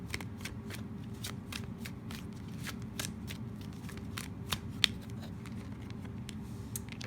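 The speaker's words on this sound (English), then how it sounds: "These cards are so hard to shuffle." Tarot cards are shuffled by hand in a steady run of soft riffling flicks and slaps that continues for several seconds, close and quiet, with no talking.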